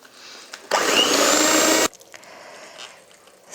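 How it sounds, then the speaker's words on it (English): An electric mixer whips egg whites with sugar and salt into meringue, running in one loud, steady whirring burst of about a second before it cuts off, leaving quiet bowl handling. "if your egg whites are still looking like this and they're not stiff enough, then you're going to continue beating"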